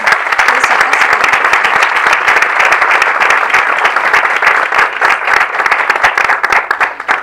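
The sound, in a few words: audience applause at a seminar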